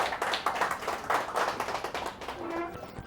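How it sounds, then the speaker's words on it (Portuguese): A small group claps at a travel agency gathering in a loose, uneven rhythm with distinct individual hand strikes, fairly quiet and close, fading toward the end. "vamos aplaudir"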